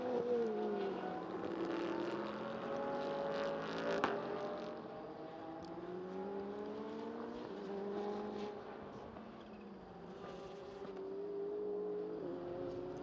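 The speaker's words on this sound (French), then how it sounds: "voilà les deux voitures qui passent actuellement dans la ligne droite des stands" Racing cars in a Hyper Sprint race roar past one after another down the pit straight, engines droning loudly and shifting pitch as they go by, with a steady rumble throughout.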